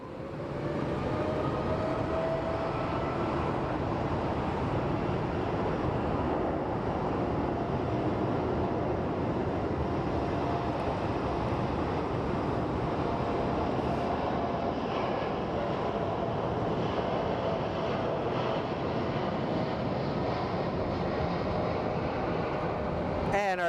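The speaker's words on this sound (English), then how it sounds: "And our Dreamliner is off to Honolulu." Boeing 787 Dreamliner departing an airport for Honolulu, a steady, broad jet roar held at constant loudness for over twenty seconds, fairly distant and smooth.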